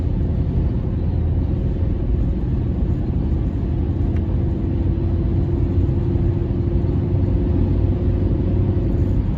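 Car accelerating hard at over 50 mph, heard from inside as a steady, loud low road and engine rumble with constant hiss, unbroken and with no talk.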